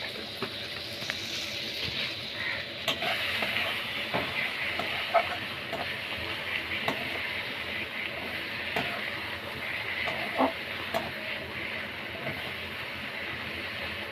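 A spice paste for prawn curry sizzles and fries steadily in a pan, with light scraping of stirring running through, close and moderately quiet with no talk.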